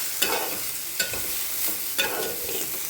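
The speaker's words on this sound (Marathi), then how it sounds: "आपल्या भाज्या व्यवस्थित अशा फ्राय झालेल्या आहेत" Vegetables for a chapati roll fry in a hot pan, a steady bright sizzle running throughout, broken by a few soft stirring scrapes at regular intervals, close and fairly loud with no voices.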